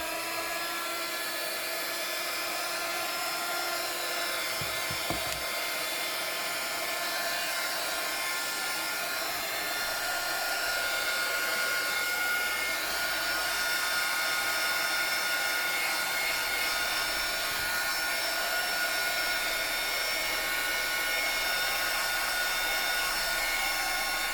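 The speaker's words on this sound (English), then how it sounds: "we could put our blower on it and it'll be a bit noisy" A blower dries embossed paper journal pages with a steady, loud whirring hiss that holds unbroken for over twenty seconds, close by and with no talking.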